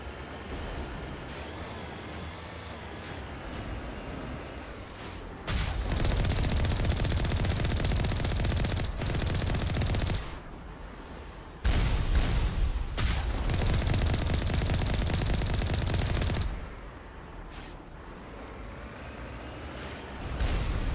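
Turret gunfire in the video game Mass Effect 1, sustained rapid bursts that cut in and out in long blocks over a constant background rumble, loud and close, with no talking.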